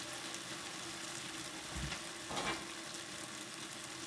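Chopped onions for a Chinese beef curry sizzle steadily in a hot pan, a constant quiet hiss with a couple of brief louder bursts as they are stirred.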